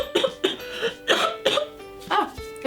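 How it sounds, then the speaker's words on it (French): A person caught in a coughing fit, giving six sharp, close coughs in quick, uneven bursts, each followed by a brief wheezy breath. "je viens de me prendre une crise de toux"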